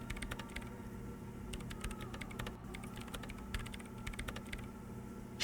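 Keyboard keys are pressed in the video game Disco Elysium, with quick clusters of light clicky taps in several bursts and short pauses between them, close and soft against a low steady hum.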